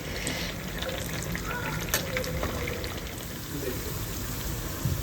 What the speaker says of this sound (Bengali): বেগুনিগুলো ভাজি এরপরে আমি হলো পেঁয়াজুটা ভাজবো